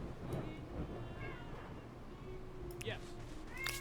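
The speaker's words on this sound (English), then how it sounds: "Meow. Hello, cat." A cat meows a couple of times, faint and close, amid quiet talk over a background game soundtrack.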